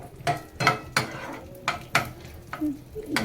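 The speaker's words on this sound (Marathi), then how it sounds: "थोड्याशा मध्यम आचेवर ड्रायफ्रूट्स मस्त परतून घ्यायचे आहेत" Dry fruits being roasted and stirred in a pan over a medium flame: a soft sizzle under repeated, rhythmic scrapes and clinks of a spoon against the pan, close and fairly quiet.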